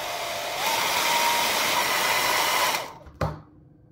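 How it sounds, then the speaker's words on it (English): A hair dryer blows hot air onto a piece of white rigid resin, a steady loud whoosh that rises slightly in strength early on, runs evenly, then cuts off abruptly and is followed by a brief knock. "First, let's try hair dryer."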